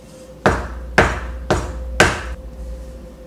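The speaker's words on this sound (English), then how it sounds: "So we're going to toss it in the flour just a little bit and then start pounding." Butter is pounded on a floured counter for croissant dough: four loud, close, evenly spaced heavy thuds about half a second apart, each ringing briefly, with no talking.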